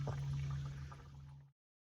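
Coolant drains from the radiator of a Nissan D21 Hardbody pickup, a steady close liquid trickle with a low hum under it, running alone for about a second and a half before cutting off.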